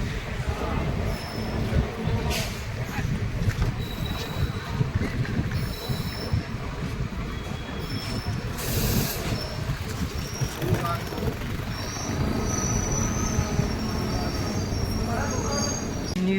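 Mayurakshi Express pulling into Dumka station in Jharkhand, a steady loud rumble of rolling wagons with high wheel squeals and brief screeches throughout, with voices talking faintly underneath.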